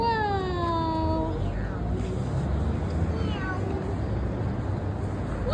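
Stray cat meowing outdoors, a drawn-out close meow at the start followed by a few fainter mews over steady background noise.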